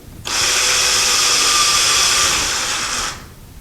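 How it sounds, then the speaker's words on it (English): A power drill slowly bores into a wall beam while a towel bar is being mounted. A sharp start is followed by a loud, steady, close whine held for about three seconds, which then winds down and stops. "We're going to drill the beam just a little bit."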